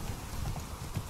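Muffled horse hoofbeats in Witcher 3: Wild Hunt clip-clop in a steady rhythm, low and soft, over a constant background hum.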